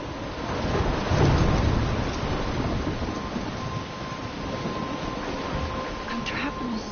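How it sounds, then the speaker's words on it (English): A thunderstorm with steady heavy rain fills the scene, with a low thunder rumble swelling early and lingering under the downpour. "I'm trapped in a storm?"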